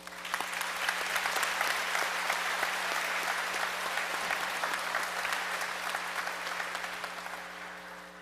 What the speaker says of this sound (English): I feel they deserve another round of applause.